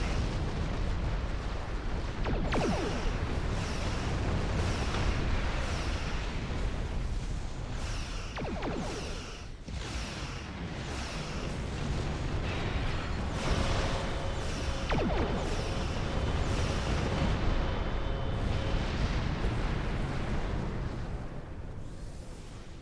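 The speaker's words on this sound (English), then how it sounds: "Ship is under attack." Starship battle in Star Trek Online, with a continuous loud barrage of weapon fire and booming explosions filling the whole stretch, several sharp bursts standing out over a dense rumbling bed.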